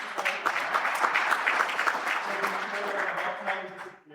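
Lecture audience giving a round of applause, dense steady clapping throughout that tapers off at the very end.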